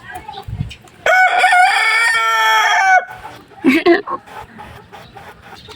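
Silkie chickens at feeding time: a loud, close rooster crow lasting about two seconds, followed by a few short clucks. A person speaks briefly near the start.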